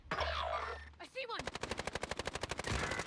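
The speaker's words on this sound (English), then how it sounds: "I'm getting shot at as well." Rapid automatic gunfire in the Call of Duty Warzone battle royale game, a steady burst of evenly spaced shots following a short stretch of talk and noise, loud and close.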